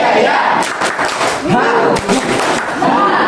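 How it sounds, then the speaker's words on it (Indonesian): A classroom of students clap a patterned rhythm in unison, sharp collective claps in groups with short pauses between, with voices of the class mixed in. "Tepuk tiga satu dua"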